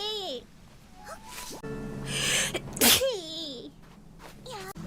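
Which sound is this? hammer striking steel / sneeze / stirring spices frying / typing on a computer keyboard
sneeze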